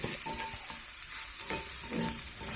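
Huitlacoche fungi, broken into smaller pieces, cooking and being stirred in a pan, giving a steady close sizzle with soft scraping stirs throughout and no talking.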